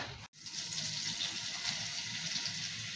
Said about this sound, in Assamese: ইয়া পিয়াজ তেলত ফ্ৰাই হৈ আছে তেল মানে বাটাৰত